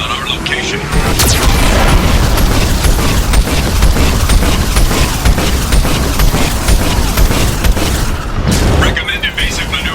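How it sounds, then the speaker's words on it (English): A loud barrage of Geth cannon fire and explosions in Mass Effect 2, with heavy repeated booms and crackling bursts that hammer on without pause, then ease slightly near the end. "Warning, Geth cannon is locking on our location."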